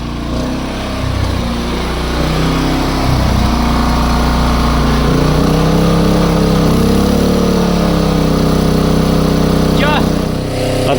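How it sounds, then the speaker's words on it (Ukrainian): A compact Champion 3.5 kW enclosed gas-petrol generator runs on gas with a low, steady engine drone throughout; someone speaks over the running engine. "Я просто здивований, що такий маленький генератор компактний може настільки тихо працювати на газу."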